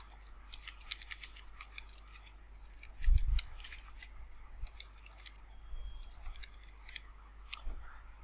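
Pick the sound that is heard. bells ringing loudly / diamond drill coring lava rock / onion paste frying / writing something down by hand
writing something down by hand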